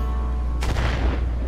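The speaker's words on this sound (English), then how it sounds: "Yes, the explosions will just knock you around." A booming explosion in the Golf With Friends video game, a sudden broadband blast that decays over about a second above a steady low game hum.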